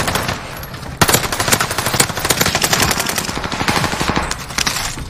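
Video-game gunfire, loud and close: continuous automatic bursts rattle for about five seconds, with one sharp report near the start.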